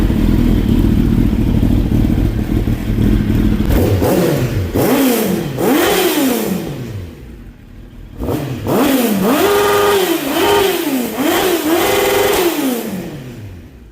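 Motorcycle engine with just under 40,000 miles, tank and wheels painted black, running at a steady loud idle, then revved in a series of rising and falling throttle blips, pausing briefly before more repeated revs close up.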